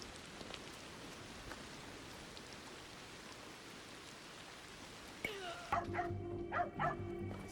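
A dog barks several times in Assassin's Creed Shadows, sharp and fairly close, following a long stretch of steady rain hiss, with a voice speaking over the barking.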